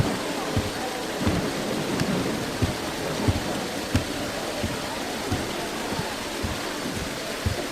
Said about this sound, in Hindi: तुम तो बारिश को देखो, जिससे फद्दान को कहर से निजात मिलेगी